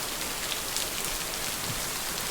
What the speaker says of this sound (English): Alright, that rain's getting heavier.